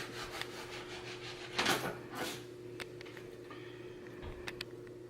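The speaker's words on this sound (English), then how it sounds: "I'm going to put my hand protector over it and then take my blade and slice through." A knife draws through venison on a cutting board beneath a hand guard, making a few soft, close scraping strokes and light taps against the board.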